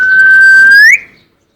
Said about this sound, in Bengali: ময়না শীষ দাও